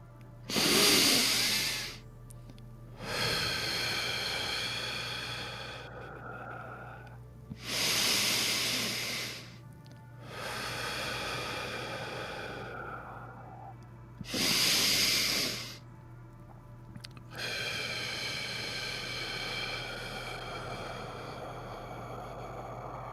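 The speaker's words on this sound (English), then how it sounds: "taking 3 nice deep breaths in through our nose. Hold for a moment. Exhale through our mouth." Three slow, deep breaths during a guided meditation, each a long hissing inhale through the nose followed by a held pause and a softer, drawn-out exhale through the mouth, close and steady with no talking.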